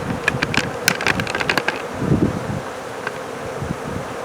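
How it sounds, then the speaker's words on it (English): A dense swarm of honey bees fans pheromone at the entrance of a swarm-catch box in March, a steady close buzz with individual bees whining past the microphone and light wind rustle beneath. "Look at all those bees fanning the pheromones."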